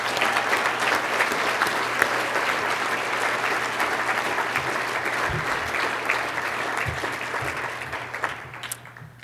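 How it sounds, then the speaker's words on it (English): An audience at a youth courage awards event applauds educators in the room, loud dense clapping that carries on for about eight seconds before tapering off, with a few low thumps underneath. "give them a round of applause for those educators in this room"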